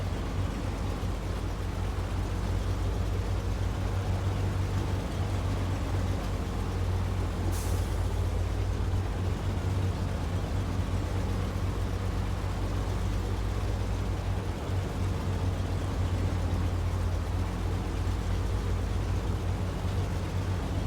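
An All American AA 33 truck in SnowRunner runs with a steady loud engine drone throughout, and a single short air brake hiss cuts in partway through.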